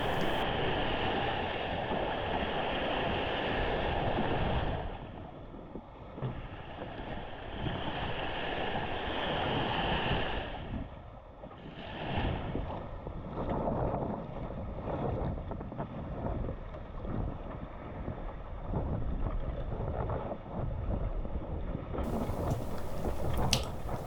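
Ilur cruising dinghy sailing on port tack off a windy beach, with steady wind buffeting and water rushing and slapping along the hull, close and continuous with no voices.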